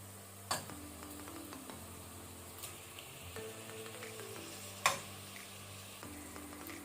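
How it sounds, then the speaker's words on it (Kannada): Mutton fries over a medium-to-high flame with a soft continuous sizzle, and a couple of sharp utensil clinks against the pan ring out over a steady low hum. "ಈಗ ನಾವು ಮೀಡಿಯಂ ಟು ಹೈ ಫ್ಲೇಮಲ್ಲಿ ಮಟನ್ ಅದು ಕಲರ್ ಚೇಂಜ್ ಆಗೋ ತನಕ ಫ್ರೈ ಮಾಡ್ಕೊಳ್ಬೇಕು"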